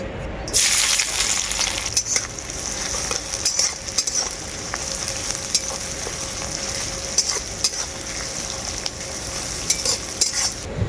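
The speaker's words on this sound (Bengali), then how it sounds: "তেলটা খুব ভালোভাবে গরম হয়ে গেছে প্রথমে আমি পেঁয়াজের ফেরস্তাটাই ভেজে নেব" Thinly sliced onions fry in hot mustard oil in a wok, a loud close continuous sizzle with periodic scraping and stirring taps throughout.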